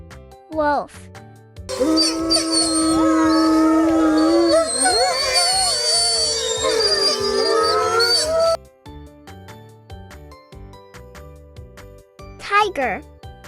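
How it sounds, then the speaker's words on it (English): A wolf gives a long, loud, sustained howl with wavering pitch, lasting several seconds over a light music bed, framed by brief synth swooshes before and after. "wolf."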